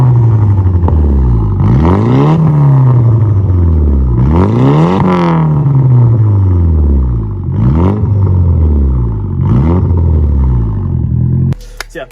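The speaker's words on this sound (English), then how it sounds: "So yeah, that's the exhaust, what it sounds like." A Nissan S14 240SX/200SX/Silvia with an aftermarket exhaust revs repeatedly, loud and close, each rise and fall of the engine note clearly swept in a series of five blips.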